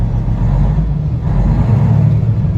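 A 2014 Peterbilt 388 glider kit truck runs with its diesel engine loud and close, a steady low rumble that swells slightly as it revs and carries no voices.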